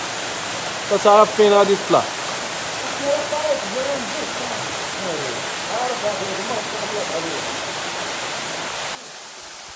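Constant broadband roar of the Ifehsa waterfall in Morocco fills the scene, a dense rushing wash of falling water with a voice talking briefly over it before the noise cuts off near the end.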